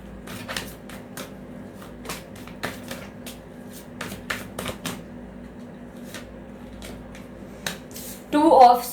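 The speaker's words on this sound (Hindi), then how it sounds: "काफी सारे कार्ड्स स्लिप हो गए हैं" Tarot cards slipping and shuffling in the hands, a series of soft, sharp flicks and slaps spread unevenly through the clip, ending in a louder burst of riffling.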